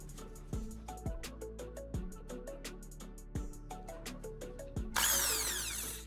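A carbon rod tip held in a drill chuck spins while sandpaper presses against it. The drill whirs in short repeated bursts with low-pitched spin-downs, and the last second ends in a louder, hissing grind.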